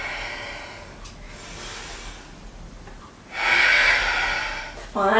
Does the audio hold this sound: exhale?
yes